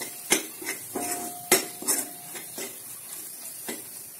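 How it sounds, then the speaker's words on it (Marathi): Spices for a spicy chicken dish are stirred in hot oil, with sharp clinks and scrapes of a metal spoon against the pan repeating irregularly over a soft background sizzle. "हे मसाले पण तेलात व्यवस्थित परतून घ्यायचे."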